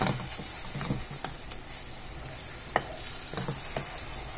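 Tomato masala with ghee sizzles in a pan for palak kofta curry, a soft continuous crackle punctuated by light scraping taps of a spoon stirring, close and steady.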